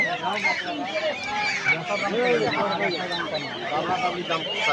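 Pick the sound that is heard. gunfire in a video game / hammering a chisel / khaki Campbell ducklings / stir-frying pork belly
khaki Campbell ducklings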